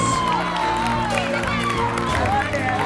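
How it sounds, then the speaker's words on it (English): A crowd at a school annual sports meet closing ceremony claps and cheers for Yellow House, a dense sustained wash of applause and shouts with voices mixed in and a loudspeaker voice over it. "Clap your hands everybody for Yellow House."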